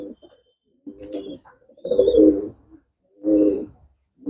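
A racing pigeon, about a year old, coos close by in three low, throaty bursts separated by short pauses, with quiet gaps between them.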